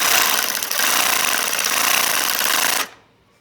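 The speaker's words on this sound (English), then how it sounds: "take our Sawzall blade and put it into the Sawzall and find out where the stroke is" A Sawzall reciprocating saw with a blade fitted runs steadily at full buzz for nearly three seconds, loud and close, then cuts off abruptly.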